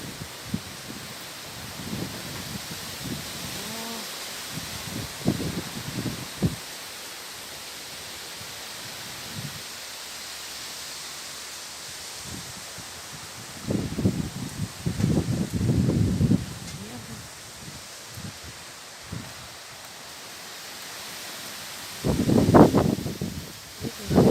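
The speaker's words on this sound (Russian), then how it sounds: "такой штормовой ветер" Stormy wind in Moscow gusting through leaves, a steady broadband rush with louder bursts of rustling coming and going, the strongest gusts near the middle and end.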